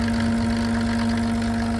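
Steady, even drone of a Mercedes OM603 diesel engine driving a PN-40 motor pump, loud and close with a constant low hum and rhythmic mechanical chatter, no talking.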